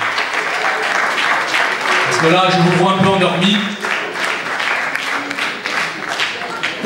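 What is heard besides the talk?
audience applauding at a municipal election rally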